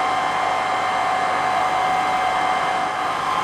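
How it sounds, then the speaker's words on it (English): A hair dryer blows steadily and loudly over freshly painted miniatures, a constant airy whir with no pauses. "if you just help the drying with a hairdryer"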